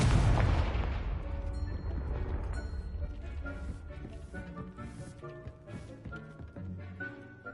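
A Confringo spell explosion in Hogwarts Legacy opens with a loud burst that fades into a rumbling tail under game music and effects.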